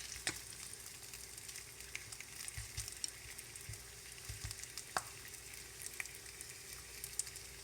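Bacon frying in a pan, a steady soft sizzle with scattered small pops and crackles throughout, close and alone with no talk.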